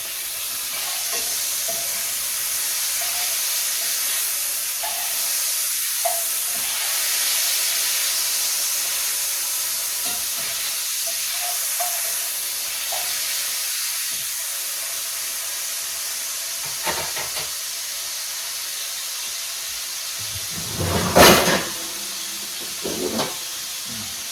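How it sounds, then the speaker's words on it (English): Venison sausage sizzling in a frying pan, a steady close hiss and crackle of frying fat that holds throughout, with occasional soft scrapes as the links are moved and a louder burst of sizzle near the end. "So Let's get over here and flip our sausage around a little bit more."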